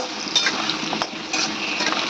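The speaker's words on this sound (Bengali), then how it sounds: "চলো একটু ভাজা ভাজা করে নিই পেঁয়াজ আলুটা ভাজা ভাজা করে নিই" Onion and potato fry in a pan ahead of a jackfruit curry, making a close, steady sizzle with light stirring scrapes and a few utensil clicks.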